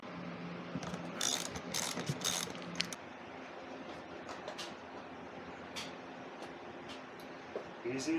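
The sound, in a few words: ratchet removing 12mm seat bolt on Suzuki DR650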